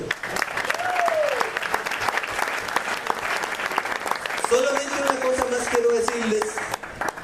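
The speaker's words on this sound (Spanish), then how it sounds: "Un aplauso al Señor." Church congregation applauding during a Spanish-language worship service, steady dense clapping filling the room throughout, with a voice speaking and calling out over it partway through.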